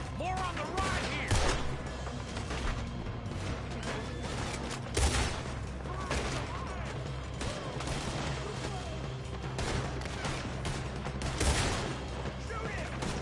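Gunfire in Red Dead Redemption 2 as a shootout with reinforced guards unfolds: repeated sharp shots and bursts crackle steadily over a dense, rumbling battle bed, with voices shouting throughout.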